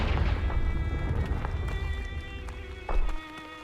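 Confringo blasting spell cast in the Hogwarts Legacy video game, a rumbling low-end burst under busy combat noise, with a sharp crackling impact near the end that quickly fades.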